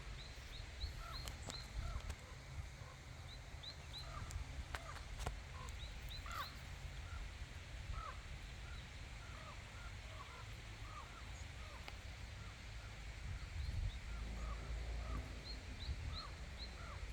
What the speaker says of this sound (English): There's birds flying up there